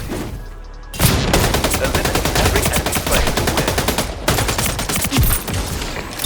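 Rapid automatic gunfire in the video game Splitgate, loud and continuous, with dense repeated shots after a brief lull near the start and another short gap midway.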